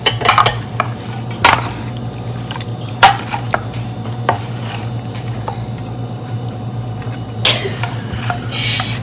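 Seasoned ribs being mixed in a bowl before cooking: wet squishing and irregular clattering knocks of utensil against dish, close up, over a steady low hum.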